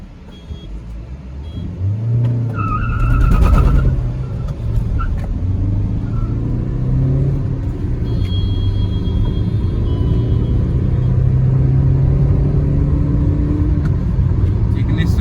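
A Kia Seltos HTE diesel SUV and a Suzuki Ignis hatchback launch in a drag race, a loud rising engine roar and road rumble swelling and holding steady outdoors.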